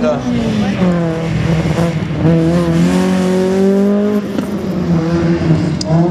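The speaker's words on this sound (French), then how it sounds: "le numéro 49, Michael Ira, qui se fait une excellente dérive juste devant nous" A race car drifts at a slalom event in Saint-Lô, its engine rising and holding in a loud sustained whine as it slides past close by, with a commentator talking over it throughout.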